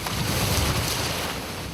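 Ocean waves surge at sea between Marado and Gapado, waters known for high waves and strong currents, heard as a constant broad wash with wind buffeting the microphone from a fishing boat.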